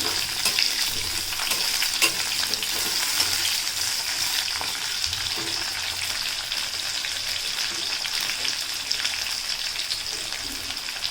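Onion fries in hot oil in a pan for an egg masala curry, giving a steady close sizzle with soft scraping as it is stirred, continuous and alone with no talk.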